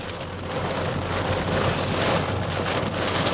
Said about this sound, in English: it just started pouring. It's like raining cats and dogs over here.